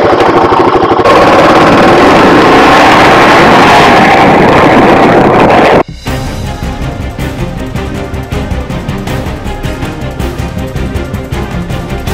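A motorcycle engine runs loudly and steadily while riding in Australia, with wind rushing over the microphone; after about six seconds the sound turns rougher and more pulsing.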